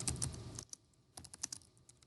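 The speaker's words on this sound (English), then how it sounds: "oh my gosh, my typing" Quick bursts of keystrokes on a computer keyboard during a lecture, soft close clicks in two short runs separated by a brief pause, with no talking over them.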